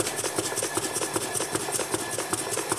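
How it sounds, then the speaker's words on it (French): An 1870 Simpson and Shipton steam engine, a rare model with small cranks on the shaft, runs steadily with a dense, fast mechanical chatter and rapid regular beats, loud and close throughout. "Alors c'est un moteur assez spectaculaire et assez peu répandu."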